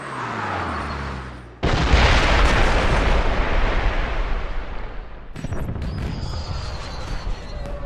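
Loud continuous bursts and booms of fireworks in the James Bond 007 Blood Stone video game, a dense crackling barrage that starts abruptly and rolls on with a second surge near the end, no talk over it.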